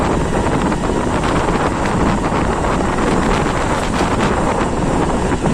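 Strong wind roars continuously against the microphone, a loud, buffeting rush filling the whole moment without letup.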